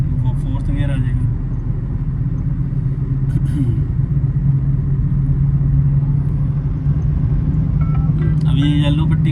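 Car engine pulling hard in third gear during a driving lesson in Chandigarh, a steady loud mid-low rumble that holds throughout with a slight rise, heard from inside the cabin.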